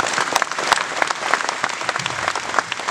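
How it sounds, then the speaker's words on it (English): A live audience applauds steadily at a Vietnam veterans honoring event, a dense broadband wash of many hands clapping close up with no speech over it, holding even for about three seconds. "let's give him a nice round of applause"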